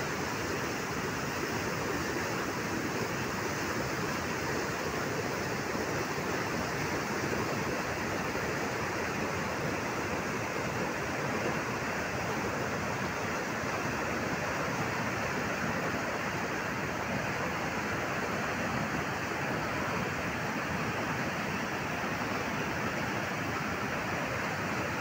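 Water released from Adhala dam flows down a river in a dense, unbroken rushing roar that stays steady and loud throughout, with no voices heard.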